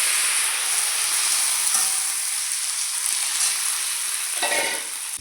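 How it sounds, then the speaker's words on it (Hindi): Tomatoes and crushed spices hitting hot oil in a pan for a mixed vegetable curry, giving a loud, steady sizzle and hiss that runs without a break, with a brief scrape near the end and no speech. "अब इसमें डाल दूँगी इतने सारे टमाटर।"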